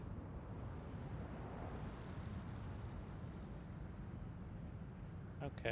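A Delta jet arriving from Vancouver at Seattle, a steady distant roar of engine noise that holds evenly and faintly throughout, with a brief knock near the end.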